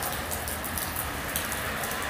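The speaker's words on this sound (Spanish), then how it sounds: "esta mendiga lluvia no para, miren, no para" Heavy rain pours down without letup, a dense, steady hiss and patter that fills the whole stretch at a loud, even level.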